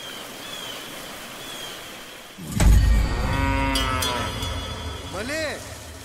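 A cow moos in a Telugu film teaser for Kalinga, two drawn-out calls near the end after a deep booming hit, set against a low wash of ambient score and rushing noise.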